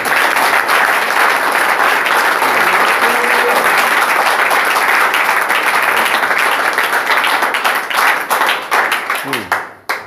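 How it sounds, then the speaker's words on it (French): Loud, sustained applause from a church congregation, a dense wash of many hands clapping close by for about ten seconds before trailing off with a few scattered claps at the end. "Applaudissons encore pour le Seigneur"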